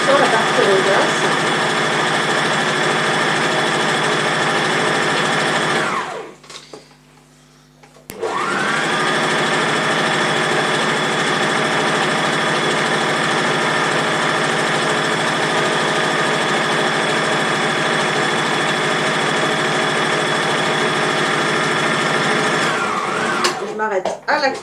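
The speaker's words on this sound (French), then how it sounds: "je coupe le fil, je superpose mes côtés et là je couds l'endroit" A domestic sewing machine stitches fabric in a steady, loud mechanical whir that runs almost the whole time, stopping briefly for a couple of seconds before starting again at the same even pace.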